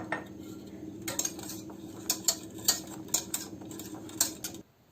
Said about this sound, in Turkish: Şimdi çikolatalarını ekliyoruz ve eriyene kadar yavaş yavaş karıştırıyoruz.